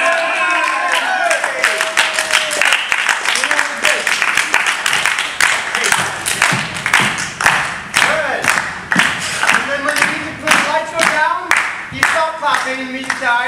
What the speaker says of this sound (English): Clapping and the music dies, and you exit.